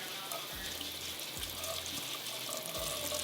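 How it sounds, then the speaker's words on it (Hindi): Water runs from a kitchen tap into a pan in a steady splashing stream, with a few low knocks from the pan underneath. "इसके अंदर हम पानी डाल देते हैं।"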